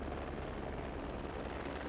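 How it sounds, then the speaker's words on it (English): Deafening helicopter blades at night: a steady, loud, close rotor roar that fills the whole stretch without a break. "Deafening helicopter blades slice through the night."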